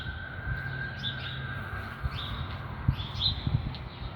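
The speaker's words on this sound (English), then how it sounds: "It's really rare to hear birds like this." Birds chirp and tweet intermittently at a distance over a steady background hum, with a few soft cooing calls mixed in.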